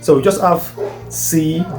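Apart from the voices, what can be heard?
No distinct noise like a dog, phone or traffic.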